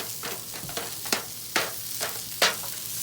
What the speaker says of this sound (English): We're going to go ahead and get our onions on it.